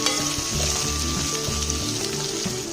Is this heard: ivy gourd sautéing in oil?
yes